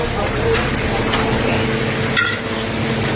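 Lechon frying in hot oil for a home fiesta feast, a steady close sizzle and crackle with stirring clatter throughout, with a voice briefly near the end.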